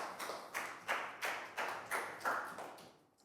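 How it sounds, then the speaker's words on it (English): A small group of primary pupils in a classroom claps for a classmate in about eight quick, soft bursts, each fading fast. The clapping thins out toward the end. "Big round of applause for Chu."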